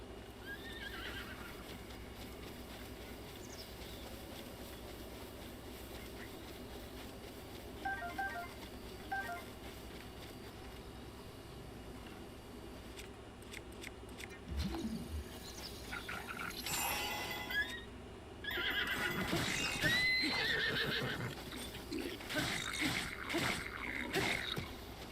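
A horse neighs and whinnies in The Legend of Zelda: Breath of the Wild, with hoof clip-clops and game chimes beside it, fairly faint and rising toward the end.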